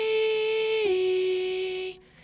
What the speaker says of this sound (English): So a airy falsetto would sound like this